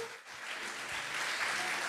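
Church congregation applauding together during a service, a steady wash of clapping that swells slightly toward the end.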